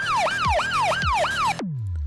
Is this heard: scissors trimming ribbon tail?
no